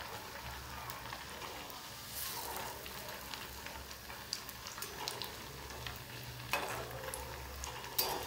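Pav vada, bread pieces in batter, frying in oil in a pan, a soft steady sizzle with light stirring clinks and a low hum underneath, quiet and close.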